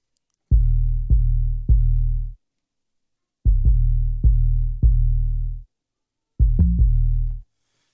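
An unprocessed, soloed 808 bass: deep, boomy sustained notes in three groups of repeated hits, each with a sharp attack and steady low tone, separated by silence.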